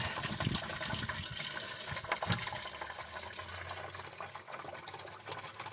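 Coolant drains from a 1997 Neon in a continuous, faint liquid trickle and splash with no talk over it.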